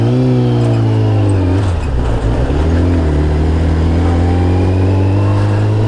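A Triumph motorcycle roars past close by, its loud engine note rising and then falling in pitch as it passes, the drone sustained throughout.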